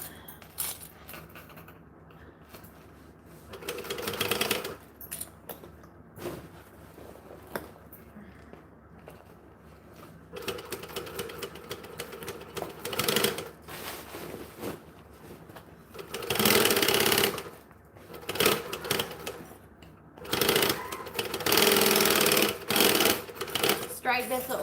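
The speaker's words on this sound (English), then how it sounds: "I will also be doing a second row of stitching" A sewing machine stitching a very large bag, running in several bursts of rapid mechanical whirring separated by pauses, loudest toward the end, with a person talking in between.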